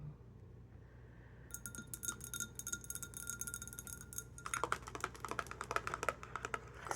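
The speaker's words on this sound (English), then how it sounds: "Listen to some gentle taps" Gentle ASMR tapping on a hard, slightly glassy surface, beginning after a quiet start and gathering into brisk, dense, close-up taps with a clicky, keyboard-like texture; no talking.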